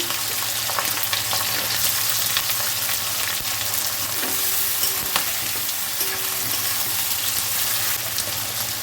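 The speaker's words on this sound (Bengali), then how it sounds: "তেজপাতা ফোড়ন দিলাম গোটা জিরে পেঁয়াজ কুচি" Bay leaf, whole cumin and chopped onion fry in hot oil with a dense, continuous sizzle and frequent stirring scrapes close by, alongside a low steady hum and no voices.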